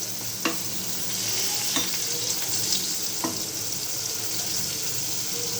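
Pointed gourd (potol) fries in a pan with a continuous close sizzle, broken by a few light clicks as the pieces are stirred.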